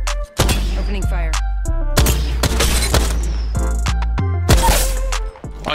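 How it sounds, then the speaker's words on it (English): Gunfire in Apex Legends: loud bursts of shots and booming impacts come in repeated volleys across the whole stretch, dense and close, with brief gaps between clusters. "Opening fire."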